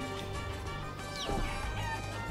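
A chicken clucks in the Guacamelee video game against a busy, steady game soundtrack, the clucks fairly faint and mixed into the music rather than standing alone.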